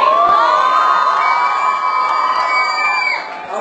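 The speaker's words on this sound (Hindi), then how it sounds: "लड़के ही चिल्ला रहे हैं" Boys in a live stage show audience shout and cheer together, a loud sustained crowd roar of whoops and yells lasting the whole moment, dipping slightly near the end.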